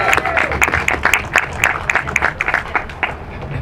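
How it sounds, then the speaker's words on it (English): Crowd applause at an outdoor unveiling of the Black Veteran Historical Corridor in Oakland, California: dense, steady clapping from many hands, close and fairly loud, with scattered sharper claps throughout. "Let's give it a round of applause"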